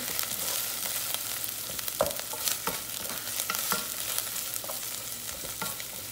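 Vegetables sauté in a hot pan as a spoon stirs them, giving repeated scraping knocks every half second or so over a steady, close sizzle of frying.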